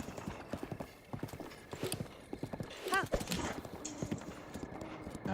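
Horse hooves clip-clop steadily in The Legend of Zelda: Breath of the Wild as the mount travels a road, with a brief whinny midway and a person talking over the rhythmic game hoofbeats.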